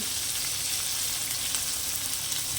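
Bitter gourd frying lightly in hot oil, a close, dense and steady sizzle hissing continuously without a break, no voices.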